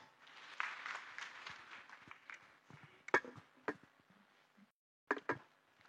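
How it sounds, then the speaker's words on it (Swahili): A crowd applauds the region's factory directors with a moderate burst of clapping that thins out into a few scattered, isolated claps, heard from a short distance. "Tuwapigie makofi"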